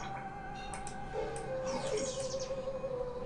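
Birds in the online game Animal Jam give faint, brief chirps and tweets over a soft steady ambient game background, with a few short calls clustered in the middle.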